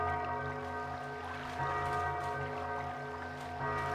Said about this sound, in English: Why is the bell ringing just now?